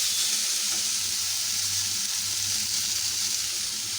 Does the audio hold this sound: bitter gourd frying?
yes